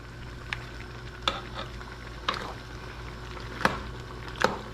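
Braunschweiger being broken apart and stirred into a pot of Filipino goat stew, kalderetang kambing, giving a few scattered soft wet clicks and scrapes over a low steady background hum.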